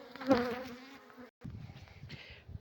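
Honeybees buzz steadily around hive frames while a two-queen colony is assembled, a soft close drone that briefly cuts out and then resumes more faintly.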